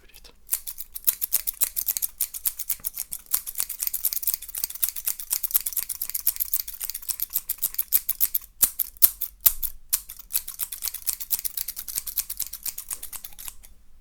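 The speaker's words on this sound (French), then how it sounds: "je vais reprendre un petit peu avec les ciseaux" Scissors snip through hair at a hairdresser's in a close, quiet ASMR setting. Rapid crisp cuts repeat in quick bursts throughout, with only brief pauses.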